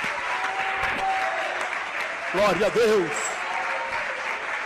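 Church congregation applauding at a pastor's sermon, a dense steady wash of clapping throughout, with a voice speaking and singing over it near the middle.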